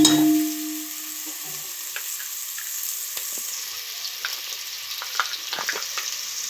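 Onions and tomato frying in a pan for egg fried rice give a soft, steady sizzle with scattered crackles and a few stirring scrapes, close by and alone.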